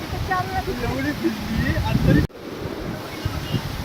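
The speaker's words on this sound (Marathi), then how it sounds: "खूप छान छोटासा वॉटरफॉल आहे." A small waterfall rushes in a steady, noisy wash outdoors, with wind buffeting the microphone and a person talking over it before an abrupt cut.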